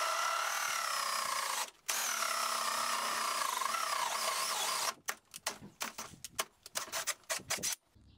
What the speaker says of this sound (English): I'm going to drill through a hole for the waste